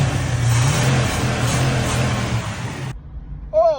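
A Ford Mustang Fastback engine roars loudly up close, holding a revving note for about three seconds before cutting off abruptly, followed by a short rising rev.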